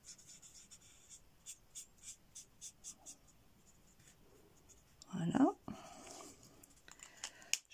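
A colouring pencil scratches on paper for a card craft, in a close, quiet, rhythmic series of short strokes roughly every half second, followed by a brief louder rustle and a few more strokes.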